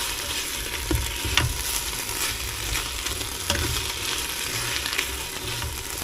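Beef stew ingredients fry in a pan on high heat, a close, continuous sizzle broken by occasional stirring scrapes and clicks, with no voices.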